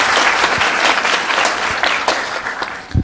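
A conference audience at a game developers' talk gives a burst of steady, loud applause for the organizers, clapping continuously and starting to trail off at the end.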